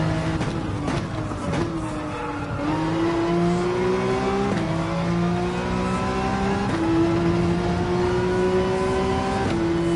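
A Ferrari race car in the Gran Turismo 7 video game drives hard at Fuji, its engine note climbing steadily in pitch and then dropping with each gear change, loud and continuous throughout.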